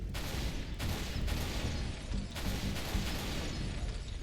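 Needle rifle fire in Halo Reach aimed at brutes, a dense, loud burst of rapid shots and impacts packed over a roaring battle bed, with no talking.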